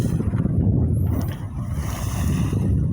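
Wind and waves buffet a boat on a lake-like stretch of sea near the Strait of Messina after rough weather, a steady loud low rush of water and gusting wind that fills the whole clip with no voices.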